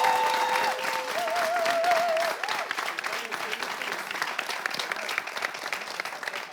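Loud audience applause for the Symphonie Corps act at a talent-show semi-final, a dense steady wash of clapping from start to finish, with a brief tonal musical note sounding over the first couple of seconds.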